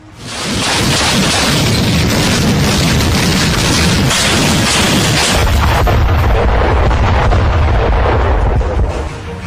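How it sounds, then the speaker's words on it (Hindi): A missile system firing, a loud sustained roaring blast that rises fast and holds for several seconds before easing off at the end. "आसमान में तनातन फायर करते इस मिसाइल सिस्टम को देखिए"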